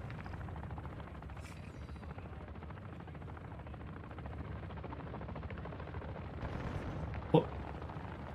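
Steady low rotor drone of a helicopter in the Call of Duty DMZ video game, continuous throughout with a sharp distant crack near the end, no talk.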